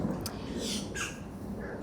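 Birds squawk outdoors in a few short, harsh calls, fairly near, over a steady low background rumble.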